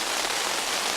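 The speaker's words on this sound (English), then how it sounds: "started raining a little earlier." Rain falling in the wilderness, a dense steady hiss of drops on surfaces, moderately faint and without voices.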